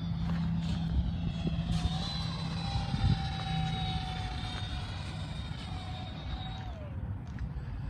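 A Freewing F9F Panther RC jet with a 64mm electric ducted fan flies past, its steady whine rising and falling over about eight seconds against background noise.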